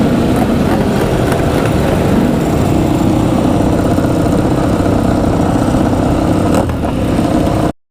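Ducati MotoGP motorcycles ride in a parade on a race track, their engines droning loud and close. The roar stays continuous and dense for nearly eight seconds before cutting off abruptly.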